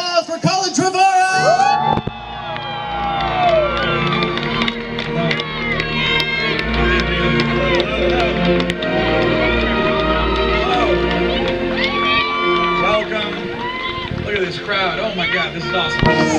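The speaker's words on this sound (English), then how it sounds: "big round of applause for Colin Trevorrow!" A large convention crowd at a Jurassic Park 25th anniversary celebrity panel bursts into loud, sustained applause and cheering with whoops, a dense roar that continues steadily after a brief opening burst.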